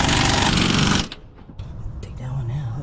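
Loud power tool tightening the top nut of an aftermarket Maxpeedingrods strut on a 2004 Toyota Camry: a dense, harsh, buzzing burst for about a second, then it cuts off, leaving quieter workshop clatter and a low hum.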